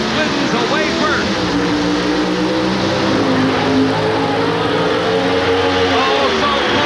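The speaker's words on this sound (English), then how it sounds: "bringing the RPM on these 500 cubic inch engines to their peak" Pro Stock drag race cars with 500 cubic inch engines launching, a loud, sustained roar of high-revving engines that fills the whole stretch, with announcer commentary underneath.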